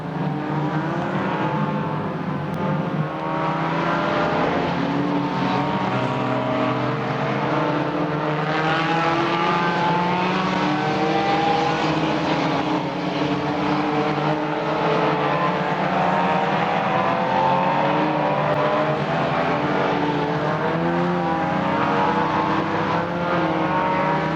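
Race cars lap a circuit at the Rolling Thunder Expo, a continuous loud engine roar with shifting, overlapping revving tones as several cars pass, sustained throughout with no talking.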